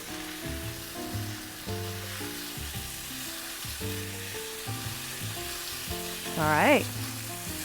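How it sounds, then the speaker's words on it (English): Spicy tofu sizzles in a pan that is not nonstick while it is stirred, with a steady fry and scraping movements up close, and a short spoken remark comes through near the end. "I'm gonna keep stirring because I didn't use a nonstick pan, and so I don't want anything to stick."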